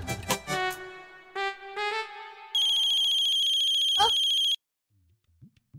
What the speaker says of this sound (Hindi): अरे, ये पौना का ही फोन है ना?